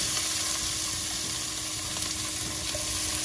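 Onion drops into 3-4 tablespoons of hot oil left from frying rui fish, giving a steady close-up sizzle and crackle that holds at an even level, with faint stirring scrapes and no talking.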